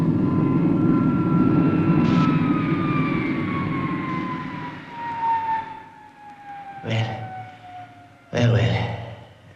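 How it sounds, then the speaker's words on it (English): A whining engine drone from the fictional Supercar vehicle, a steady hum with high tones slowly sliding downward, while people talk over it and sharp bursts of noise break in toward the end. "I should have said that was Supercar's engine"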